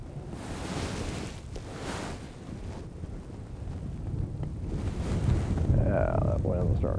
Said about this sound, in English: that wind's starting early.